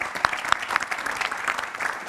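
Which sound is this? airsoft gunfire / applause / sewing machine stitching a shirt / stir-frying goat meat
applause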